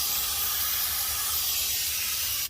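Regular brake cleaner blasting into an open Jeep Wrangler TJ Dana 44 rear differential, a loud, continuous aerosol hiss up close that cuts off abruptly after about two and a half seconds.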